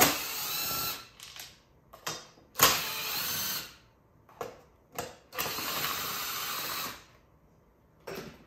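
A power driver backing out screws from a Stihl HT 56 C pole pruner during a top end rebuild, a series of short close whirring bursts with quiet gaps between them.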